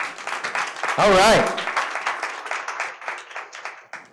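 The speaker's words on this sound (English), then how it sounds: "Let's give Josh a round of applause." A forum audience gives a guest entrepreneur a short round of applause, the clapping rising briefly while a voice speaks over it and then settling into a light patter.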